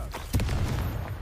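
The Confringo blast spell goes off in a Harry Potter game, a single muffled boom with a low thump and short rumbling tail, heard beneath ongoing battle noise and voices.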